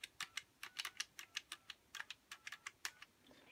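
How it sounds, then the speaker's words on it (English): Round push-button keys on a red 1974 Western Electric Bell System Trimline desk telephone with DTMF dialing clack in a rapid, irregular run of about twenty crisp, close clicks, alone without talk. "it's an earlier type push button trim line, so it has the round keys, have a cool sound to them as well"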